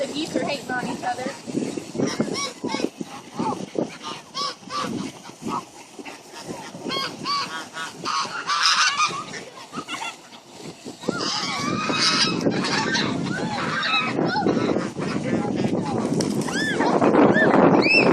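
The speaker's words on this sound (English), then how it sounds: "What are they making all that noise for? I don't know. Oh, the geese are hating on each other." Geese honk repeatedly and squabble with each other near water, loud and close, in overlapping bursts, with people talking among the calls.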